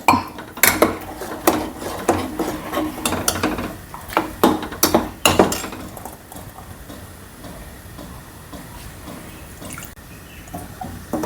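A spoon scrapes and taps against a curry pot as coconut, cumin and green chilli paste is stirred in, in a quick clattering rhythm that settles into soft scraping and a low simmer.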